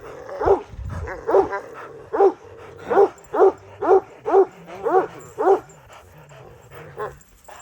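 Kangal dogs bark repeatedly at close range in a regular series of about ten loud, harmonic barks, with softer yips and whines between them.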